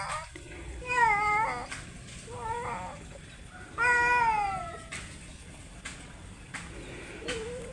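Cat meowing in two loud, drawn-out wavering cries a few seconds apart, plus a shorter softer meow between them, over a low background hiss with small scattered knocks.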